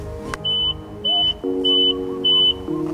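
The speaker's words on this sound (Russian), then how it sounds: "Причем на задней передаче есть зуммер." Reverse gear buzzer of an Isuzu NQR 90 refrigerated box truck with a six-speed manual gearbox: four evenly spaced high-pitched beeps over a steady idling engine hum.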